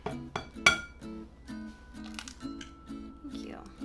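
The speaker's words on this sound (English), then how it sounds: "Robert, would you please crack the egg in here?" An egg cracked against a bowl of keto fat head dough in a home kitchen, a sharp knock followed by clinking dish sounds, with a voice talking alongside.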